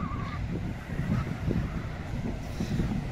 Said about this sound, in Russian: Ну и ветер с моря дует в лицо.